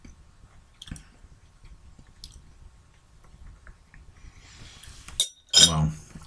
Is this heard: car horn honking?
no